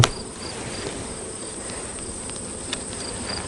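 Honeybees swarm around an open beehive during the honey harvest, a steady, dense buzzing hum that fills the scene without pause, with a few faint clicks and no voices.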